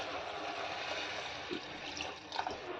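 Water trickling and pouring into dal and ridge gourd with salt in a pressure cooker, a soft continuous splashing flow with a few brief louder splashes near the end, no talking.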